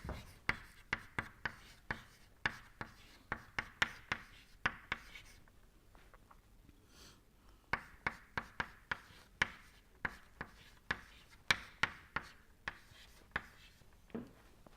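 Hand writing during a thermodynamics lecture, a string of sharp close taps and scratches of a pen or chalk in irregular bursts, with a short pause in the middle and no talk.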